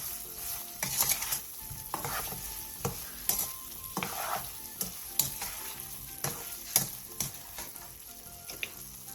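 A Korean braised side dish, reduced until nearly dry, is stirred in a pan after a spoonful of sugar goes in, with repeated scraping and clattering strokes over a soft, continuous sizzle, close and fairly quiet, with no voices.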